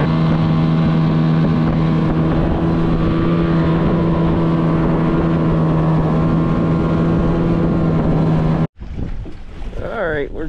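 A motorboat engine drones loudly and steadily with a constant hum and wind rush, then cuts off abruptly near the end, leaving quieter water and breeze.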